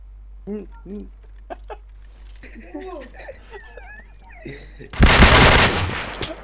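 Voices chatter during a video game, then a sudden loud burst of rapid gunfire lasts roughly a second near the end.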